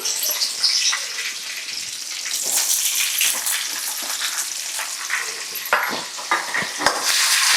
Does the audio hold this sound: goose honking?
no